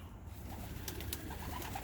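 Pigeons coo softly in a loft holding old and young racing birds, low repeated murmuring calls over a faint background hum, with a few brief scratchy rustles.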